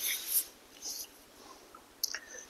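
A brush scrubs a natural stone floor in short, gritty swishes, loudest at the start and again near the end, with quieter scraping strokes between them.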